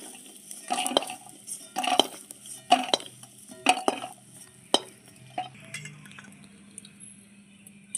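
Utensils clink and scrape against a pan as fried lentil dumplings (bori) are scooped out, in a series of separate sharp metallic taps and scrapes spaced a second or so apart over a faint low sizzle, then fewer strokes near the end.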